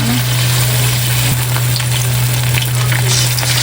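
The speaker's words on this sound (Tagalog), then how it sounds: "Ako po dito ay nagpapainit na po ng mantika" Breaded chicken frying in hot oil gives off a steady, loud, close sizzle with dense crackle and a low constant hum underneath, with no talking.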